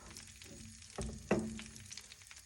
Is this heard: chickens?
no